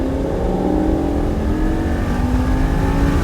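A V10 Lamborghini accelerates on a Formula 1 circuit, its loud, close engine note climbing steadily in pitch throughout the short burst.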